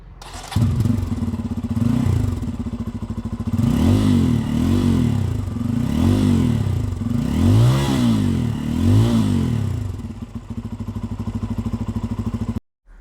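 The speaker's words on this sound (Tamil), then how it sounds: "எக்ஸாஸ்ட் நோட்டு பார்த்துருவோம். ஆன் பண்ணுறான்." A 2022 Bajaj Pulsar N250 motorcycle starts up close by and its exhaust is revved repeatedly in a rhythmic series of throaty blips before cutting off.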